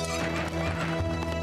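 Hooves clatter and horses whinny in the strategy video game 0 A.D. during a Spartans versus Romans match, a dense, continuous cavalry clamour over a short stretch.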